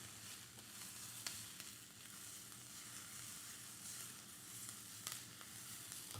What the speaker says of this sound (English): Saute that up